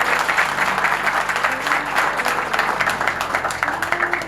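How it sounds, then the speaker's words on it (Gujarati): Applause from a crowd at a sponsor auction event, loud dense clapping sustained for several seconds with faint voices underneath. "આપણા બધા માટે તાળીઓ થઈ જાય"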